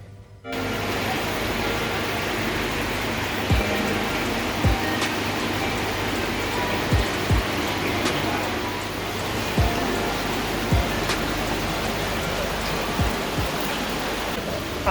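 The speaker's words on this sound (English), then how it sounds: "That onsen water." Hot spring water in a Minakamikan onsen in Gunma pours in a continuous broadband rush, close and steady, with scattered low splashes and knocks breaking through the flow.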